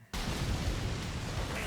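A large, sustained explosion roars from an anime battle scene in My Hero Academia Vigilantes, a dense, loud blast that swells in abruptly and rumbles on without letting up.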